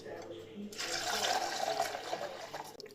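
Water poured into a cooking pot of peeled, cubed potatoes, a sudden gushing splash that runs steadily for a couple of seconds before tapering off.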